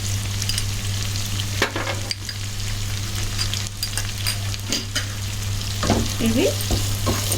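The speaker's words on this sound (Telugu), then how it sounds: "బ్రౌన్ కలర్ రావాల్సిన అవసరం లేదు ఫ్రెండ్స్, లైట్గా ఫ్రై కావాలి." Ten cashews and four cardamom pods fry lightly in a pan, a steady loud close sizzle with intermittent stirring scrapes; a voice speaks briefly near the end.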